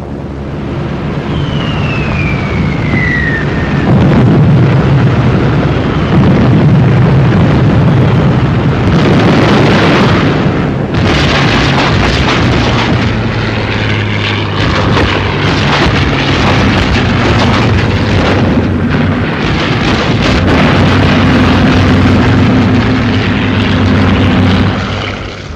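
Bombing explosions from the Second World War North African campaign, a sustained loud rumble of blasts and booms with aircraft droning overhead, continuous and dense throughout with no speech.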